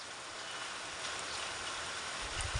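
Rain falls steadily in a mountain village in Uttarakhand, a soft, continuous hiss with no talking, growing slightly rougher toward the end.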